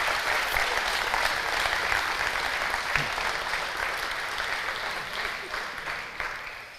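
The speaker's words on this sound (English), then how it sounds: "Can we give them a round of applause for presenting Hub 9 for us?" Sustained applause from a conference audience for a presenting team, steady and fairly loud throughout with no voices on top.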